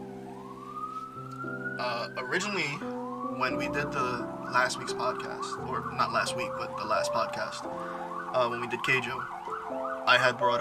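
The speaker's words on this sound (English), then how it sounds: "sorry for the sirens outside if anyone can hear that." Wailing sirens rise and fall outside, mid-distance, continuous under someone talking steadily.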